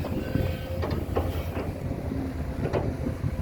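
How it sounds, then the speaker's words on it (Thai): A Kato HD820-R5 excavator with a Mitsubishi four-cylinder engine works on dredging a large pond, its engine a steady, fairly quiet low rumble mixed with some wind noise. "คือเสียงเครื่องนี่ เงียบไปเลยนะฮะ ตัวนี้เป็น 4สูบคอมนะครับ จากมิสูบิชินะฮะ"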